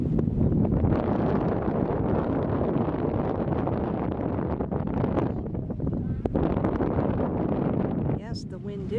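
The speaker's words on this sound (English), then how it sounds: "the wind is strong today" Strong wind roars across the microphone in a steady, buffeting rush at Fort Island Beach in Crystal River, Florida, with a brief voice near the end.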